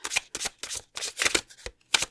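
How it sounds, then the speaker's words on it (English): Tarot cards are shuffled by hand in quick, rhythmic riffling bursts, about eight in a row, close and crisp, with no voices. "Let's shuffle and hear more about your spiritual superpower."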